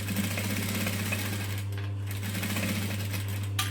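A sewing machine stitches steadily at close range, a continuous mechanical whir with a low motor hum and a rapid rattling rhythm, backstitching with a very full bobbin; a small click near the end.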